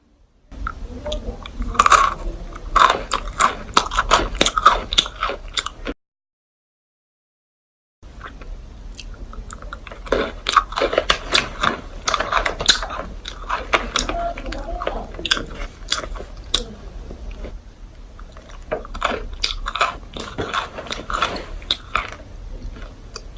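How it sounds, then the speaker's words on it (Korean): Someone bites into and chews a crunchy cherry-blossom pretzel covered in pink chocolate, close to the microphone. Crisp crackling crunches repeat steadily over long stretches, with one brief silent pause. "그 모양에서 약간 핑크색으로 초콜릿이 덮여있는 그런 과자입니다. 먹어보도록 할게요."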